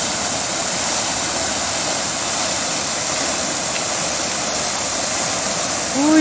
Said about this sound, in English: 1 more beautiful look at the fountain.